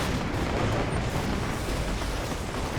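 Artillery fire pounding an ore refinery in the real-time strategy game Command and Conquer: Red Alert, a dense, continuous roar of booming impacts and gunfire filling the whole stretch with no voices.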